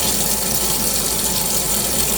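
A tap runs steadily into a sink as dishes are washed, a close, even rush of water with no voices.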